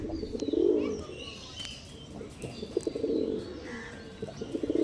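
Star Kalanka pigeons cooing in a loft, soft rhythmic low coos repeating through the whole stretch with a few chirps and light rustling nearby, no talking.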